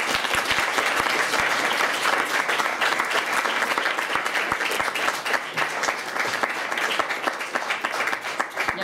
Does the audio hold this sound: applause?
yes